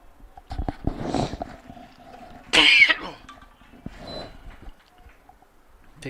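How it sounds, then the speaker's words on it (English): A baseball commentator coughs once, a sharp, loud burst in the middle of an otherwise quiet stretch at a college game between MNU and Trinity Christian, with faint background noise around it. "I'm going to be coughing a lot."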